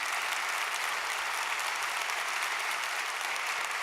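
An audience at a speaker-series Q&A with Thomas Friedman claps steadily, a dense, even wash of applause that holds at one level throughout with no talk over it.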